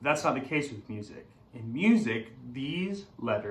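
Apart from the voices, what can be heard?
None of the usual background noises is heard.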